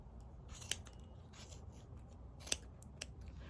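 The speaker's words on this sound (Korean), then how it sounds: "이 상태에서 이 중간에 홈으로 가위를 넣어서" Scissors cutting open a yarn pompom to make winter slippers: soft, faint snips and rustling of thread, with a few sharper clicks of the blades over a low hum, and no talking.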